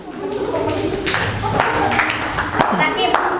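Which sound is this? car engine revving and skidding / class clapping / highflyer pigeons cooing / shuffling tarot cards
class clapping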